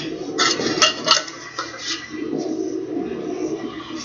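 A spoon scrapes and clinks around a bowl, mixing leftover all-purpose meat seasoning, with a few sharp clinks early on and then steady softer scraping, close and alone.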